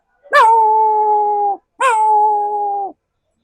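A person mimics a mother dog howling: two sustained, steady howls, each opening with a sharp yelp-like onset, loud and close with a brief pause between them.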